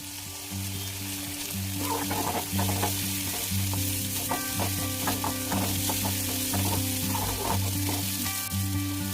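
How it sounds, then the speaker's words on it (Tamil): Shallots, cumin and dried red chilies sautéing in oil in a kadai, a loud continuous close sizzle with frequent stirring scrapes, over a steady low background hum. "கடாயில் எண்ணெய், சீரகம், வத்தல், சின்ன வெங்காயம் போட்டு நல்லா வதக்கிக்கோங்க."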